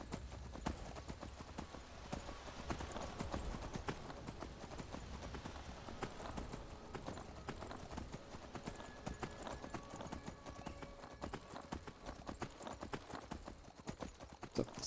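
Quiet, rapid hoofbeats of a horse in a video game clatter in a steady galloping rhythm throughout, faint and slightly distant, with a hint of a snort.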